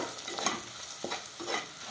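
A spoon scrapes and stirs through sizzling spices, including coriander powder, in a hot pan, with soft frying crackle throughout and a few louder scraping strokes.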